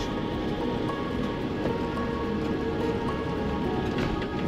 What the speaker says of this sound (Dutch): En we hebben weer regen.